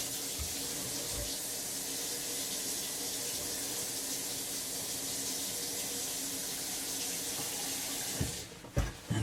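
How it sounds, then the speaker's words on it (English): Tap water runs steadily into a plastic tub set beneath a newly plumbed kitchen sink, a continuous close splashing hiss, broken by a few clunks and knocks near the end. "Put just a little water in there."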